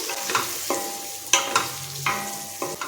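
A spoon scrapes and stirs spices in a sizzling frying pan for paneer pulao, several distinct strokes in an uneven rhythm, close and fairly clear, with no talking.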